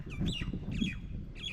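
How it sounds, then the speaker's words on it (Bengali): Bird squawks ring out in three short bursts at Idrakpur Fort, Munshiganj, fairly close and clear over a low background rumble. "ওহ কি সুন্দর পাখি ডাকতেছে"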